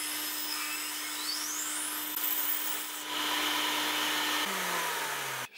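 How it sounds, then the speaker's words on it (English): A brass scribe needle being ground on a sanding belt, with a shop vacuum running: a steady, loud abrasive whir with a constant motor hum that drops in pitch as the machine winds down near the end. "now we're going to just grind this entire needle down off the sanding belt down to our little mark there"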